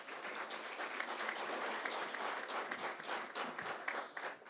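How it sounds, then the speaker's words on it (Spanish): Audience applause at a national human rights dialogue seminar in Colombia, a steady dense wash of many hands clapping that stays fairly even throughout. "Un aplauso, por favor."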